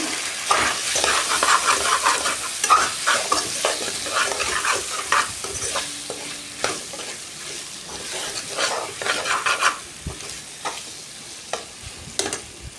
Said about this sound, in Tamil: நல்லா கிளறி விட்டுக்கணும்.